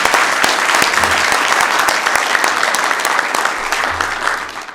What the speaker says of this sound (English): Greg Vaughn, you guys give him a round of applause.